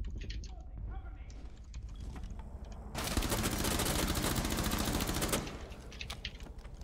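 Rapid automatic gunfire bursts out in a Rainbow Six Siege match, a dense sustained volley of several seconds framed by quieter clicks, keyboard tapping and players talking.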